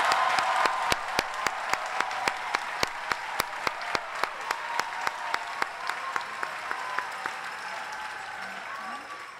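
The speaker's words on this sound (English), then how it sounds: "Can we give a round of applause to family and loved ones?" Large crowd applause at a college convocation, a broad sustained roar of many hands, with one nearby clapper's sharp claps standing out in a steady rhythm before slowly easing.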